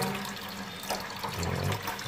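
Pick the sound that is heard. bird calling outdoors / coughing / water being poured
water being poured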